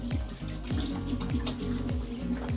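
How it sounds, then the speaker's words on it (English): Warm water runs steadily from a tap over hands being washed, a close, continuous splashing stream with a repeating rhythmic sweep as the hands move under it, no talking. "Warm water."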